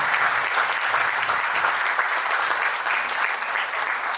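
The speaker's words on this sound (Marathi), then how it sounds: "जोरदार टाळ्या." Audience applause at a stage event honouring a Kathak guru and dancer, a dense, steady clapping from a large crowd that carries evenly from start to finish with no break.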